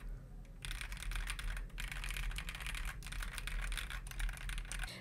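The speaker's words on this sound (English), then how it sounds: "So my keyboard is at the back of the mic," Steady computer keyboard typing behind a FIFINE Ampligame A8 USB microphone, clicking rapidly and continuously at a muffled, moderate distance with brief pauses.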